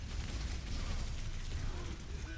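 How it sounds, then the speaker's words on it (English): Artillery cannon explosions in an Overwatch esports match: a steady, dense barrage of low rumbling blasts and bursts that runs without a break, fairly faint overall. "Zeal just bullying the supports there with that artillery cannon"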